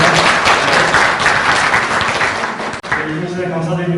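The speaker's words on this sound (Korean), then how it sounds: "여러분께도 주셔서 힘찬 박수 부탁드리겠습니다." A large crowd applauds steadily and loudly at a farm policy forum's founding ceremony, the clapping thinning out near the end as a voice begins over it.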